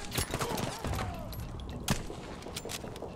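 Machine gun bursts rattle in the Battlefield 5 video game, fairly faint and distant, with a sharper crack near the middle and battle noise around them.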